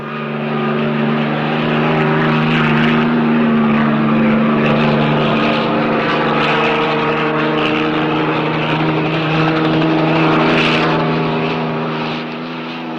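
A police patrol helicopter flies overhead with a loud, steady, droning engine and rotor hum that holds for the whole stretch, fading slightly at the end.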